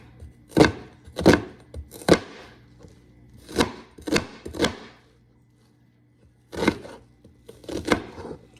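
White onions being cut with a knife on a board while preparing oxtails: sharp, distinct chops in small clusters, about nine strikes with a short silent gap before the last few, close and clear over a faint background hum.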